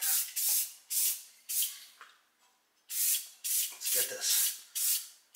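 Spray can primer hissing onto 1968 Pontiac GTO front end parts in repeated short bursts of about half a second, with brief pauses between, close and fairly loud; a voice speaks briefly midway.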